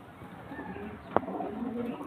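A male pigeon gives a soft, low coo at moderate distance, broken midway by a single sharp click.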